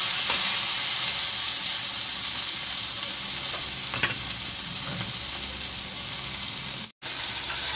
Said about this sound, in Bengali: এই যে বন্ধুরা, মাছ ভাজছি আমি।